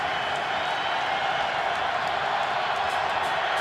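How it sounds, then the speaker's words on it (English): In an American football stadium, a large crowd gives off a broad, steady roar with scattered cheers. The noise stays loud and dense throughout, and a commentator's voice rides over it. "Crowd kicks in."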